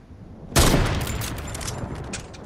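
Sudden loud burst of Fortnite gunfire cuts in from near silence, followed by a rattling spray of rapid shots and echoing reports that trail off, with a final sharp shot at the end.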